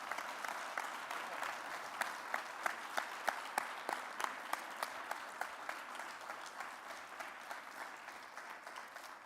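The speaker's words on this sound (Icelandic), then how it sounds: "Gefum þessum stórglæsilega hóp gott klapp." Audience applause for a gymnastics group at a sports festival in Akureyri, Iceland: a steady, moderately loud wash of clapping hands that holds throughout, with a few sharper individual claps standing out near the start.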